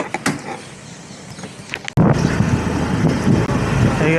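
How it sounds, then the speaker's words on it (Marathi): A vehicle engine starts abruptly and settles into a steady, close running rumble on a drizzly rainy morning, after a quieter stretch of outdoor ambience. "गाडी चालू झाली, गेट खुल्ला, चलो."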